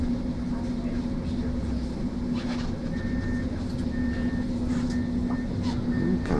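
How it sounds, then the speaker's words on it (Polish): A Polish tram rumbles past nearby on Marszałkowska Street at the Rotunda, a steady low mechanical roar with a faint high whine, street noise around it. "Polski tramwaj."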